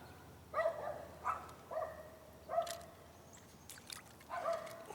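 A dog barking in short separate bursts, about five over a few seconds, moderately near and outdoors by a new dock, with faint water trickling underneath and no talk.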